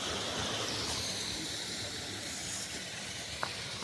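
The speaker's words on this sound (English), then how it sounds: "There is nothing I love more than a good waterfall." A waterfall pours among ice in Northumberland, a steady broad rushing hiss of falling water, constant and moderately loud, with no voices over it.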